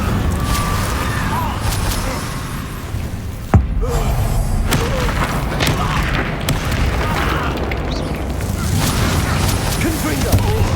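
Incendio fire spell cast in Hogwarts Legacy during a hectic duel, a sudden sharp burst amid a continuous roar of combat effects, other spell impacts and thuds, with a voice calling out over it.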